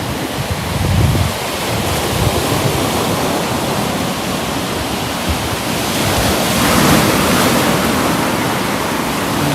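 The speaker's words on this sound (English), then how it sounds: "Some nice waves rolling in," Heavy sea waves roll in and crash continuously beside Clacton pier in rough weather, a loud, deep, bassy wash of surf with wind noise buffeting the microphone and swells building and breaking throughout.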